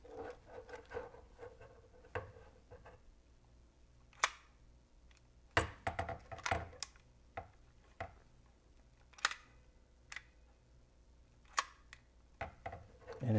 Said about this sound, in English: we can take a look at the rotary shutter in action